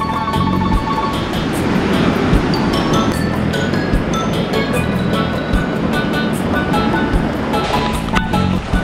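Ocean waves breaking along the Mallorca coast, a steady broadband wash of surf that stays loud and continuous throughout, with faint clinking and distant mechanical hum mixed in.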